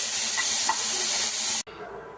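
Thinly sliced okra frying in a pan, a loud continuous sizzle with light stirring scrapes, cutting off abruptly near the end to a quieter background.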